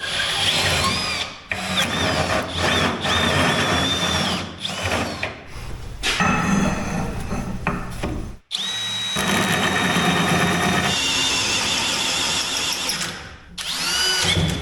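A Hercules power tool whirs in repeated bursts, drilling and grinding with short pauses between runs, loud and close.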